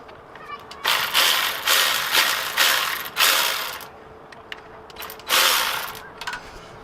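A ratchet wrench loosens a bolt on a 1966 Ford F250, clicking in several close, loud bursts of quick pawl ticks separated by pauses, with faint background noise between strokes.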